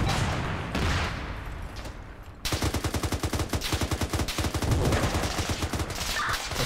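Gunfire in ARMA 3: scattered shots, then a sustained fast burst of automatic fire, loud and close, continuing steadily to the end with other shots mixed in.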